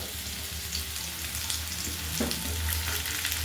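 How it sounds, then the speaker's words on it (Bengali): Chopped onions frying in a pan for a Bengali crab curry, giving a dense, even hiss of sizzling oil that holds steady throughout, close up with a faint stir partway through and no voices. "এবার আমি এর মধ্যে দিয়ে দিচ্ছি পেঁয়াজ কুচিগুলো"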